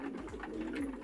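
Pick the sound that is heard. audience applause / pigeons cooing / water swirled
pigeons cooing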